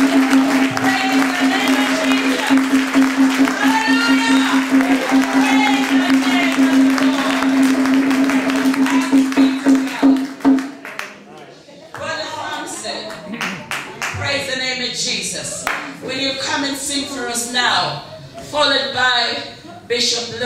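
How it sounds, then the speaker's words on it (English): A church congregation claps and cheers in a sustained wave of applause over a held musical tone, then the clapping breaks into scattered bursts while voices carry on. "Put your hands together again."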